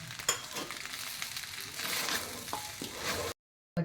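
Potato poha with lemon and coriander is stirred in a pan, a soft steady sizzle with scraping strokes of the spoon, ending in a brief silence before the stirring resumes.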